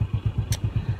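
A motorcycle engine runs close by with a rapid, even low thumping pulse and a brief sharp clatter midway.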